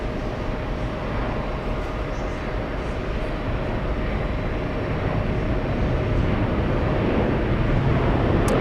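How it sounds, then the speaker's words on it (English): An American Airlines Boeing 737 taxiing at JFK during a busy plane-spotting session makes a broad, steady engine rumble and roar that swells slightly toward the end, heard from a moderate distance with no talk. "We have the American Airlines 737 on the move."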